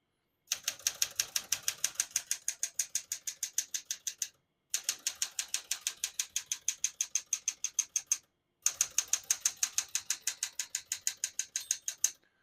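Rapid, even keystrokes clack on a 1973 Smith-Corona Galaxie Twelve manual portable typewriter in three bursts, each a steady run of crisp mechanical strikes separated by short pauses.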